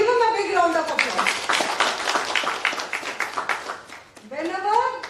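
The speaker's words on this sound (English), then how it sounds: "So give him a big round of applause." Audience applause at a university Teacher's Day event, a dense burst of clapping across the middle seconds, bracketed by voices talking before and after.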